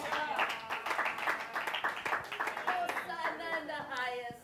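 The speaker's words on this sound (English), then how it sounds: "Can we applaud Jesus?" A church congregation claps together in quick, steady applause that goes on throughout, heard from inside the hall at a moderate level, with voices mixed into the crowd.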